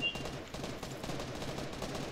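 Rapid automatic gunfire from a Fortnite match crackles continuously and loudly, a dense stream of shots with no pauses.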